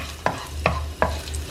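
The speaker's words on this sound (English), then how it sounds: "Give it a stir again." Lightly crushed cardamom, cinnamon, cloves and peppercorns are stirred in a hot pan, three distinct scraping strokes at an even pace over a soft sizzle, with no talk.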